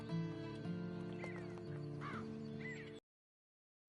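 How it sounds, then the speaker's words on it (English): Horse in the video game Red Dead Redemption II, heard as a short burst of game-audio horse sounds, whinnying and hoof clatter over a steady music bed, ending abruptly in silence. "And you better get on this horse."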